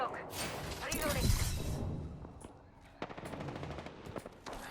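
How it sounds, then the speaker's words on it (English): Gunfire in the battle royale shooter Apex Legends, a burst of automatic shots with a heavy impact early on, then a softer lull and renewed rapid firing. A voice talks over it at a moderate, fairly distant level. "Getting shot at."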